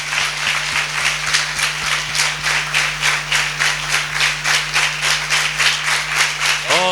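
A church congregation at a Christian revival gathering claps hands in praise, a sustained, evenly pulsing rhythm of many hands that carries on steadily throughout, with a low hum underneath and no voices.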